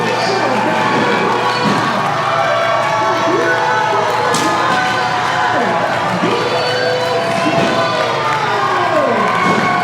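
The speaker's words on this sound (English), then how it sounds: "Listen to this ovation from this sold-out crowd." A sold-out crowd at a wrestling event gives a loud, sustained ovation after a match win, with cheering, shouting and whistles filling the hall continuously while a commentator talks over it.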